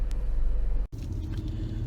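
A 2008 BMW 750Li drives slowly and quietly, heard as a low, steady road and engine rumble from inside the car with one brief dropout partway through.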